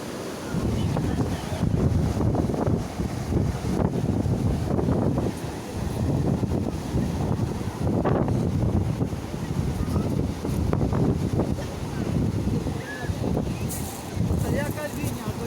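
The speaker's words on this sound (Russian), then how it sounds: "Ого, такие волны большие накрывают." Large waves roll in on the Azov Sea before a storm, a loud, continuous surging wash with heavy wind buffeting the microphone; a voice may be faintly present.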